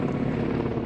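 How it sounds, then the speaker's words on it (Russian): Ka-52K Katran naval helicopters fly over during a navy day air parade in St. Petersburg, a steady dense rotor and engine drone filling the air at moderate distance. "корабельные вертолеты К-52К «Катран»"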